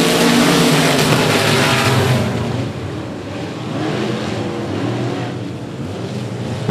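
Green-flag racing at 105 Speedway: a loud pack of race cars blasts past close by, then the engine roar recedes to a steady, fainter drone as the field continues around the track.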